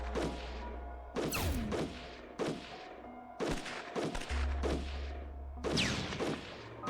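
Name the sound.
gunfire from units firing in the video game Shadow Empire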